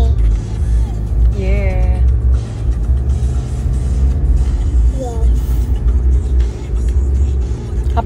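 From inside a moving Porsche, a constant deep engine and road rumble fills the cabin while voices break in briefly over it.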